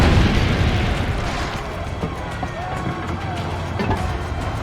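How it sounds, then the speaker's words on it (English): A cannon fires in Assassin's Creed Brotherhood at Monteriggioni, producing a heavy, rumbling boom that stays loud and dense throughout with crackling debris and battle noise layered over it. "There goes Monteriggioni's cannon."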